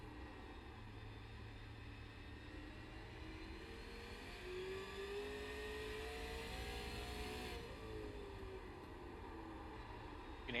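Race cars circling New Smyrna Speedway in a Sunday night Supers race, engines whirring steadily at a distance with tires scrubbing rubber off on the asphalt, a broad continuous roar that swells slightly midway.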